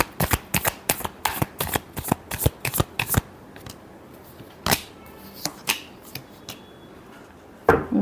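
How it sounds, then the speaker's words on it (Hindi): Tarot cards riffle-shuffled in quick bursts, a dense run of crisp close flutters for about three seconds, then a few scattered single shuffles with pauses between, loud and close with no talk. "Last shuffle."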